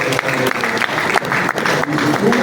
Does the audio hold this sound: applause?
yes